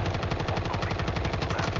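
Rapid automatic gunfire from a video game rattles continuously, loud and near, a dense stream of evenly spaced shots with no pauses.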